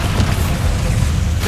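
A Bombarda spell blast in Hogwarts Legacy, a loud, dense, roaring explosion that fills the whole moment with heavy low rumble and broad crackling noise, steady throughout without a break.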